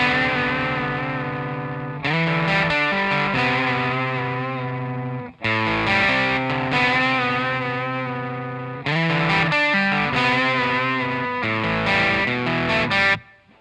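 Distorted electric guitar plays the bridge rhythm part of a song, with heavy sustained chords that repeat in loud sections with short breaks between them, solo and without talk.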